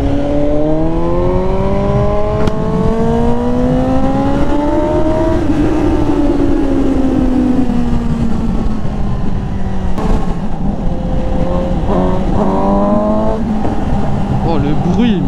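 A Suzuki GSX-S 750 sport motorcycle engine revs hard and close, its pitch climbing and falling over several throttle blips, loud throughout.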